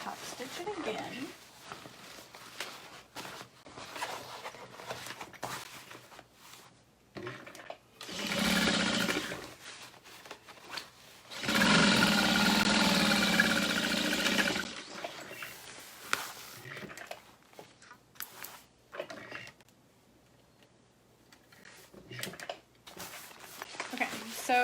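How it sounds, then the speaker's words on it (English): Sewing machine top stitching a Tiffany bag, with two bursts of steady, close motor whirring and needle chatter, a shorter run and then a longer one, between stretches of handling noise and quiet; a person talks at times. "And then I will top stitch it again."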